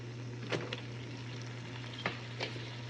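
Chicken sautés in fried masala in a karahi, a soft steady sizzle over a low hum, with a few brief clinks of stirring.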